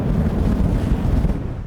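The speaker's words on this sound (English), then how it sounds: "I'll start with this single long whoosh" A single long whoosh sound effect, a loud, broad rushing noise that stays steady across its short length and thins out slightly at the very end.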